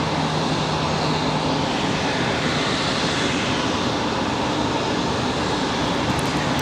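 An airplane takes off from runway 23 left at Raleigh-Durham International, a loud, steady engine roar that fills the whole stretch without fading.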